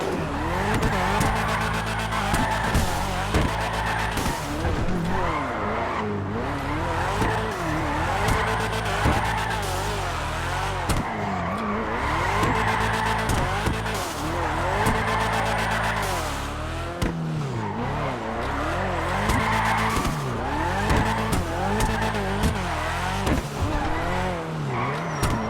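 An Annis ZR350 drifts laps in GTA 5, its engine revving hard while tires squeal and skid almost continuously. Brief lifts and shifts break up the loud, steady racing noise.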